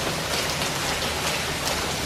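Steady, dense rain pours in through an open wall of a house and patters loudly and continuously on surfaces nearby.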